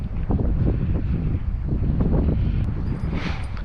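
Steady, loud wind buffets the microphone on a windy day of lake fishing. The roar is broad and continuous, with gusty surges throughout and a brief higher rustle near the end. No one speaks.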